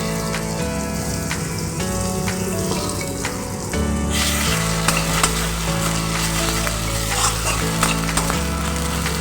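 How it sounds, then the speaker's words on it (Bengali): Ground cumin and spices stir-fried in a pan with grated coconut for a papaya dhokar dalna, a steady close sizzle with spatula scraping and stirring throughout, growing louder partway through. "জিরে গুঁড়ো দিয়ে খুব ভালো করে কষিয়ে নেব।"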